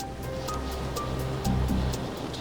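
Rough open-sea waves churn and wash continuously around a lifeboat crew during an RNLI rescue of a capsized catamaran off Torbay, with a heavier surge breaking about halfway through.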